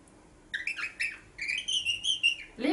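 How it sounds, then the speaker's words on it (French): Small birds chirp in a quick series of high, sliding tweets and whistles, close and fairly clear, ending with a brief lower squawk. "Trois petits oisillons. Tout juste sortis de l'œuf. Qui volaient autour du nid."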